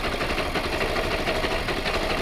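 A 150 cc motorcycle engine that had lost compression and hard starting runs after being tuned, idling with a steady, close, moderately loud rumble and a slight knocking pulse.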